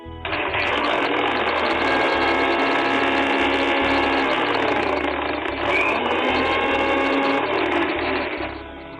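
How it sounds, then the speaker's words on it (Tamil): A kitchen mixer grinder whirs steadily as it grinds cleaned, chopped banana flower for a Tamil vadai, a loud continuous motor whine with slight rhythmic pulsing, no voices over it. "இதை நம்ம மிக்சியில போட்டு அரைச்சிடலாம்"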